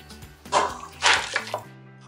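Liquid is poured into a cooking pot of pork-trotter bongo, giving a few splashing, gurgling bursts close by over a low steady hum, with no one talking.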